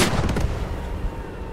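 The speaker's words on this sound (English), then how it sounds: "Tank is camped behind the German lines, throwing shots at the fob" Heavy tank cannon fire in the World War II shooter game Squad 44, a loud booming shot with rumbling low end that decays over a second and a half, with no voices.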